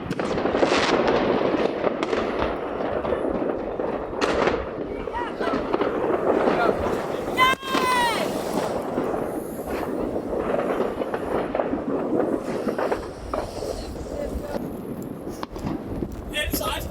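Fireworks burst and crackle across Copenhagen during New Year celebrations, with dense, continuous loud bangs from all around, a whistling rocket climbing briefly midway, and voices talking in the crowd.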